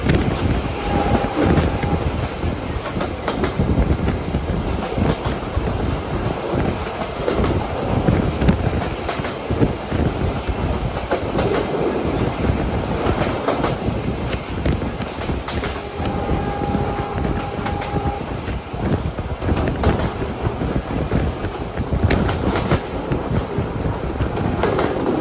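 The Betna Commuter local train runs from Khulna toward Benapole with a steady, loud rumble and rattle from inside the moving carriage, mixed with wind buffeting throughout and no talking.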